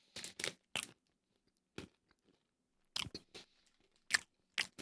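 Crunching bites of a crisp ginger-flavored snack, clusters of sharp close crackles separated by quiet pauses, loud and near with no talking.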